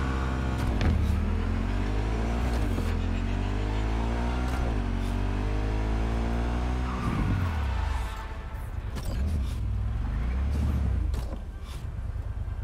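A car in the video game Cyberpunk 2077 revs and accelerates, engine pitch climbing and dropping through repeated gear shifts, with brief tire skids and squeals; loud and continuous, no talking.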